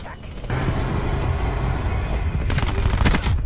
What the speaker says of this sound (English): authorizing thresher ground attack